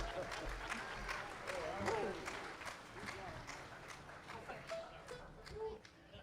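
Audience applause for a band at an outdoor Shindig on the Green music event, a steady crowd clapping throughout with some voices mixed in.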